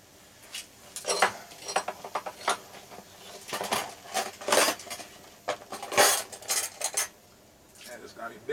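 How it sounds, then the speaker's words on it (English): A knife slices food on a board while preparing camp meals of Vera Cruz catfish, quinoa and slaw: irregular close clicks and taps of the blade with some utensil clinks, moderately loud, with no talk. "Let me slice these up a little bit first."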